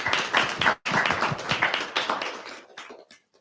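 Applause from an audience at a conscious leadership talk, a burst of claps that stops abruptly, then resumes briefly and thins out to scattered claps before fading.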